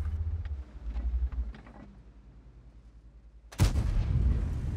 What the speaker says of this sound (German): Oh, wie kann ich denn so daneben schießen?